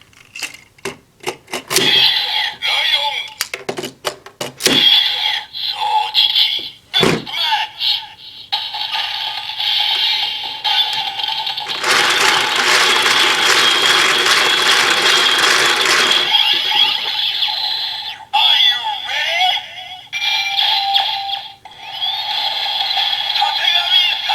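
Kamen Rider Build Driver toy belt with its crank being turned: ratcheting clicks, then electronic jingles and a long buzzing transformation sound, loud and close, ending in more electronic effects.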